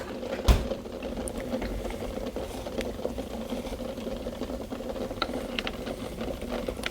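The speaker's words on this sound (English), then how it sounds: "And there we can see the eggs are boiling." Water bubbles at a steady simmer in a pot of boiling eggs, a low continuous burble with faint ticks and one brief knock near the start.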